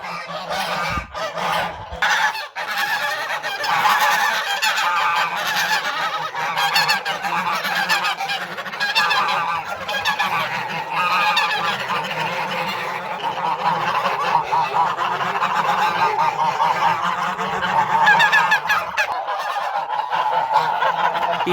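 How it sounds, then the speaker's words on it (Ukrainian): Dense, unbroken honking from a big flock of domestic geese gathered in a farmyard, loud and close, with overlapping calls throughout and no one talking. "Ось такий гусячий базар."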